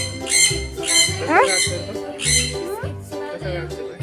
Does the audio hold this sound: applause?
no